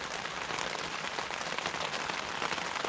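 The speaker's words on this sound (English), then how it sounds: "Heavy rain from now till midnight. No wind, just rain." Heavy rain drums densely and continuously on a tent while camping, a loud, even hiss of countless drops close overhead with no wind and no voices.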